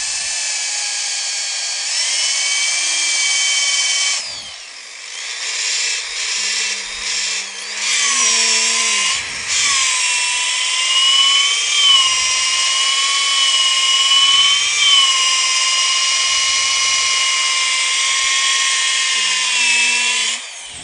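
Power sander working the face of a wood piece with 120-grit paper, a loud steady high whine running almost continuously, briefly dipping and restarting, with faint hum beneath.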